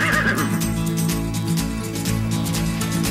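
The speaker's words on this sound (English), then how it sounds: "what better way to see it than in the horse and buggy?" A horse pulling a buggy gives a loud, close neigh, with faint hoof clatter underneath.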